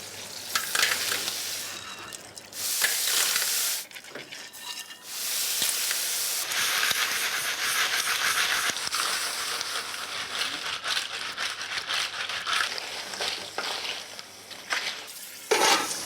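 Clams steam and sizzle in a pan with garlic and olive oil, a loud continuous hiss and bubbling fry close by, with stirring bursts and shifting intensity throughout and no talk.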